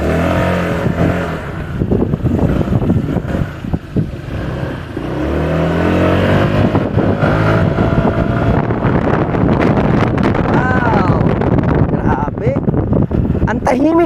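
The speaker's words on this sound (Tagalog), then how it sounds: "Ang tahimik ng makina pero ang lakas sumatak." Skygo Bolt 150 motorcycle engine humming steadily while riding, mixed with heavy wind buffeting the microphone; a voice talks over the ride throughout.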